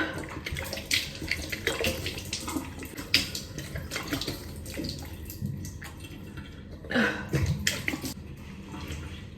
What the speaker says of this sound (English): I wash my face with this water